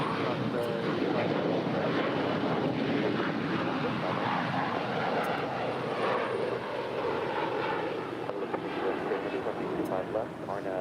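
Airliner jet engines roar steadily at LAX, a broad continuous rumble that holds at close to constant loudness, with faint talk mixed underneath.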